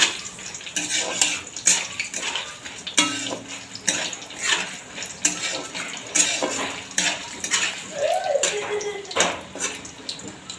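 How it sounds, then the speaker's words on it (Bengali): Raw chana dal fries in a wok, with busy, close scraping and clattering of a utensil against the pan over an ongoing crackle, in a lively, uneven rhythm. "ছোলার ডালটাকে একটু আমি ভেজে নেব"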